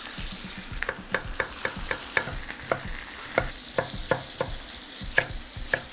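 Meat shoulder joints sizzle in a frying pan with onions, carrots and celery nearby, a steady close hiss punctuated by frequent sharp crackles and pops.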